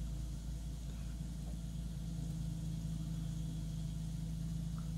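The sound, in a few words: Diamond DA50 light aircraft engines in flight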